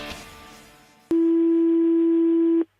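A single long steady ringback tone from an outgoing phone call, loud and continuous for about a second and a half after a brief burst of line noise, then cutting off.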